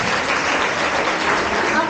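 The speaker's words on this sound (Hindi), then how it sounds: "एक बार जोरदार तालियां उनके लिए।" A crowd at a career counselling speech claps hard and loud, a thick, even roar of hands that holds steady throughout with no voices over it.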